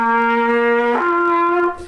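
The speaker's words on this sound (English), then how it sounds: "Sometimes students will have a hard time getting the note to go up." Trumpet holds a low note and then strains to slur upward, the pitch cracking and sagging into an unsteady note that never locks cleanly into the higher partial, played alone.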